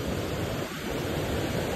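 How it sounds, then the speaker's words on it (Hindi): Strong river current in flood, a dense unbroken roar of fast-flowing water that stays loud and steady throughout, with no voices over it. "अभी पानी का बहाव देखो यार"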